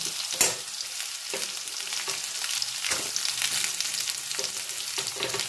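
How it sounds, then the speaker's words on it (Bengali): Potatoes and carrots frying lightly in a pan, giving a steady close sizzle with occasional louder bursts and crackles as the vegetables are moved, no voices. "আলু আর গাজরটা হালকা করে আমার ভাজা হয়ে গেছে।"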